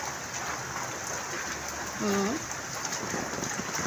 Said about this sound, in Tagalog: Grabe yung ng ulan.